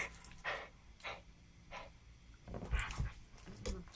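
Two dogs make short yelps, whimpers and scuffling sounds in a quiet room, a few separate bursts early on, then a busier cluster of growly noises toward the end.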